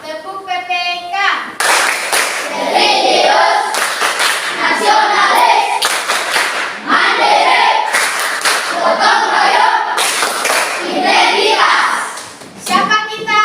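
Indonesian middle school students in a classroom clap together in a patterned rhythmic chant, bursts of loud clapping alternating with shouted children's voices, energetic and close.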